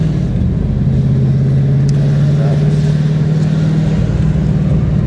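A 1991 Camaro Z28 with a 5-speed runs steadily, its engine and exhaust giving a loud, continuous low drone that stays level throughout, with faint voices in the background.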